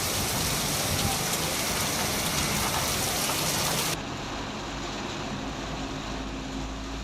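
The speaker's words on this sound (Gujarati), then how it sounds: "સાઉથ બોપલમાં પણ વરસાદી માહોલ છવાયો" Steady rain falling in South Bopal, Ahmedabad, a dense even hiss that drops slightly in level partway through, with a faint low rumble like distant traffic underneath.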